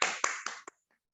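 Short burst of classroom applause for a student, a few scattered claps close by, quickly fading to silence.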